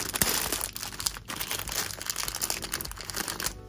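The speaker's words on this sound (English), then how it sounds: "Let's take this one out of the plastic." Thin plastic wrapping crinkles and crackles steadily as a small detailed Re-ment blind-box figure is unwrapped, a continuous close rustle with brief pauses and no talking.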